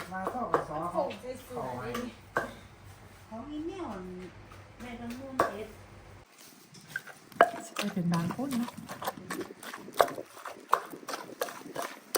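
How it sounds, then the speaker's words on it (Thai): Coconut milk is stir-fried in a pan for khanom jeen nam ya, with a metal utensil scraping and clattering in quick irregular strokes. Voices talk over the first half before the stirring sounds carry on alone. "คั่วกะทิให้หอมหอม"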